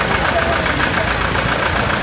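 A 1960 French-built two-stroke M72 vintage tractor engine runs loud and close at an old-tractor parade, giving a dense, steady rumbling drone without a break.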